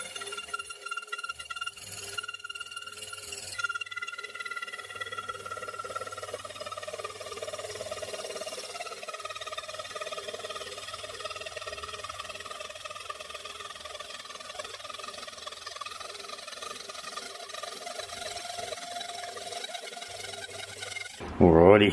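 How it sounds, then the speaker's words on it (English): A slitting saw cuts metal on a homemade milling machine with a sustained, ringing metallic whine and steady grinding drone that holds for about twenty seconds, close and fairly loud with no talking. "I'm just going to try and slit it halfway up with the slitting saw"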